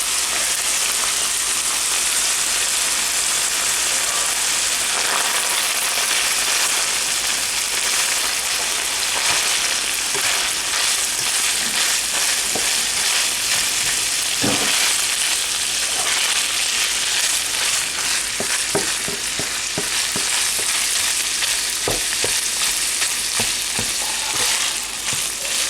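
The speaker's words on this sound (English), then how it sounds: "hear the sizzling" Steady, crackling sizzle of spaghetti bolognese ingredients frying in a hot pan, with occasional louder pops and stirring scrapes, continuing evenly throughout.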